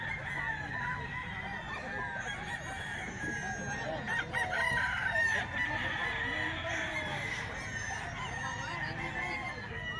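A Gilmore hatch gamefowl stag, a young rooster, crows faintly at a distance, mixed with clucking and other farmyard birds over a steady background, with quiet voices underneath.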